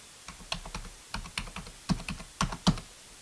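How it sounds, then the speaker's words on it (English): Keys clatter on a computer keyboard as a telephone number is typed into a softphone call window, about a dozen close, crisp keystrokes in short uneven bursts with no voices. "type in the telephone number or extension number in the text box"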